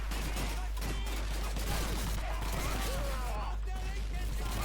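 Gunfire in Call of Duty 2, a dense fusillade of rapid shots under continuous game noise while a player talks excitedly over the top.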